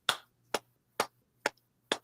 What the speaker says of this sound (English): I'll give you a couple of claps for that.